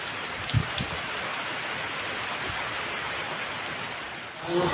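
Rain falling steadily outdoors, an even hiss of drops heard close with a brief bump near the start and rising noise at the end.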